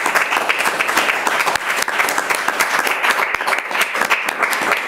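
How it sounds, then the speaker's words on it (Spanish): An audience claps steadily and loudly throughout, dense continuous applause from a crowd at a studio production, without pauses or voices rising above it. "para los que también piden un aplauso."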